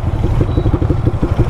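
Motorcycle engines from a race between an R15M, RS200, MT15, R15V3 and Duke 250 chug with a loud, rapid, pulsing idle or low rev, close by.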